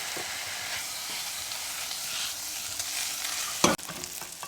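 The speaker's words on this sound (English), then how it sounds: "first step you want to do is cook your ground sausage" Ground sausage frying in a pan: a steady close-up sizzle with light stirring scrapes, and a sharp utensil knock near the end.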